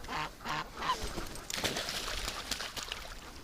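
Ducks quack in short, scattered calls close by, a few overlapping honking bursts in quick succession outdoors.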